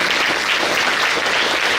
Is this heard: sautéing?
no